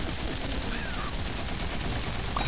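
Rapid, dense video game gunfire crackles without a break, a loud continuous barrage of overlapping shots.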